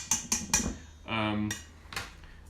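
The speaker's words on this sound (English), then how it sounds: "flour with the baking powder and the salt. I'm going to whisk those together." A whisk taps and clinks against a bowl while flour, baking powder and salt are whisked together for Baltimore Berger cookies. Several quick, close metallic knocks are split by a short humming, voice-like tone.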